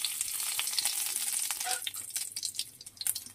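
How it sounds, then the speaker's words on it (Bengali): Nigella seeds drop into about two spoonfuls of hot oil for a spicy fish curry, giving a soft, continuous crackling sizzle with fine pops. It stays fairly quiet throughout and picks up slightly toward the end, with no talking. "তেলটা গরম। সামান্য কালো জিরে দিয়ে দেব।"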